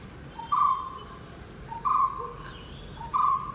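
A bird calls outdoors three times in a steady, evenly spaced rhythm: clear, fairly loud mid-pitched notes over a soft background hiss, with no talking.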